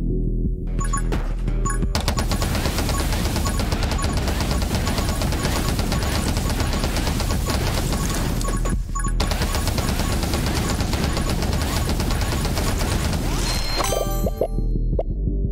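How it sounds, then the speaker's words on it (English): Dense, relentless gunfire in the video game 20 Minutes Till Dawn on the Temple map, packed into a loud continuous barrage of rapid hits and impacts with only brief dips. "Shooting our last ammo, deal smite."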